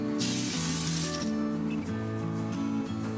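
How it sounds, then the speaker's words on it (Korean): Black surfacer sprayed from an aerosol can onto a shuriken made with a 3D pen, a loud steady hiss running continuously under a faint background tone. "검은색 서페이스로 칠해보도록 하겠습니다."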